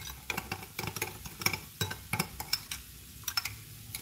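A metal spoon stirs sugar and sauce in a bowl for Chinese claypot beef rice, giving a quick, irregular series of close, bright clinks and taps against the bowl with no talking.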